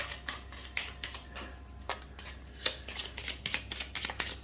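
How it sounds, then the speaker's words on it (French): A deck of cards being shuffled during a solo Dungeon Saga board game session, heard as a quiet run of crisp riffling snaps and flicks in irregular bursts, with no voices. "Et comme j'ai plus de cartes, donc je vais mélanger le deck."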